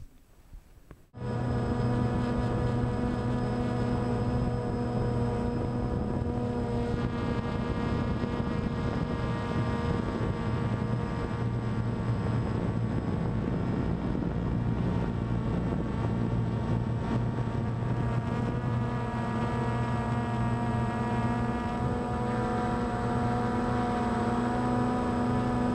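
A drone flies outdoors, its steady, loud whine with sharp harmonic tones starting abruptly after a second of near quiet and holding constant through the rest, with light wind noise.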